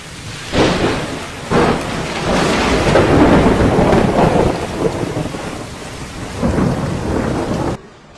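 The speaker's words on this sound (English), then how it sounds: "the expected storm and heavy rainfall have arrived" A historic storm in Sanliurfa, Turkey, brings loud rolling thunder that rumbles again and again over a dense hiss of heavy rainfall, strong and close throughout, with no talking.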